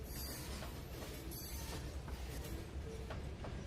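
A train rolls along the track in the Trainz 2019 simulator, a low steady rumble with faint wheel clicks and a few brief squeals, fairly quiet and continuous with no talking.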